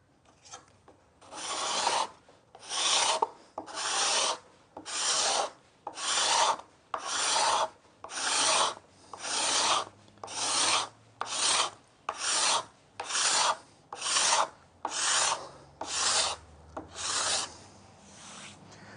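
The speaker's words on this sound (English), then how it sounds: "how much I've actually scraped off with the new scraper" A brand-new cabinet scraper rasps across a piece of wood clamped in a vise, making about sixteen rhythmic strokes with short pauses between them, close and clear with no talking.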